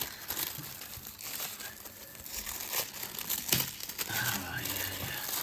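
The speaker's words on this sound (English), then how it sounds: "Let's move that tissue paper to one side." Tissue paper crinkles and rustles in close, irregular bursts as a Marvel Legends Loki figure with its Tesseract accessory is unwrapped, with soft talk in between.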